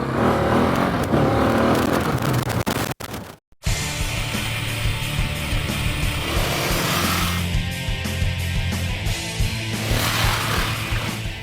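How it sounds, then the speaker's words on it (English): A 2010 KTM 690 single-cylinder adventure motorcycle is ridden, its engine droning and revving loudly and continuously close by, with a brief dropout partway through and rising pitch as it accelerates. "This is KTM's big single-cylinder adventure bike."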